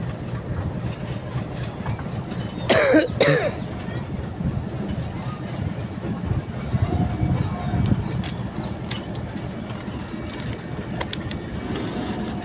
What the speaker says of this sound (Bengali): 2 নাম্বার লাইন দিয়ে চালানো ট্রেন এখন চলে যাচ্ছে